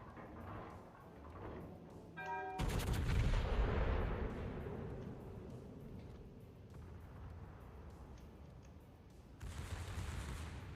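Heavy naval gunfire booms out in a World of Warships battle, a loud burst of rapid blasts from a warship's secondary guns, then a rumbling tail and another burst near the end, with no talk.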